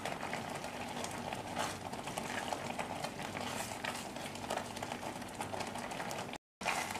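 Plum sauce simmering in an uncovered pot, a faint steady bubbling and soft patter that continues evenly throughout with no talking.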